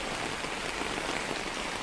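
Heavy rain pours steadily during severe flooding in Kannur, Kerala, a dense, continuous hiss of drops hitting surfaces, loud and close, with no voices.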